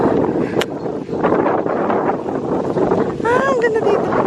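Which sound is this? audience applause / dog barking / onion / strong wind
strong wind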